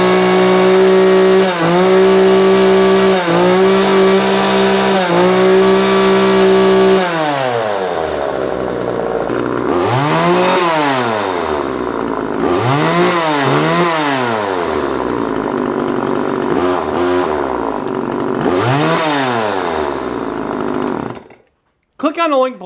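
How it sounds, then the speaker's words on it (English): A vintage McCulloch MacCat 16-inch chainsaw runs loud and close, idling steadily before a series of repeated throttle revs that rise and fall, then cuts off abruptly near the end. "a 16-inch McCulloch MacCat chainsaw"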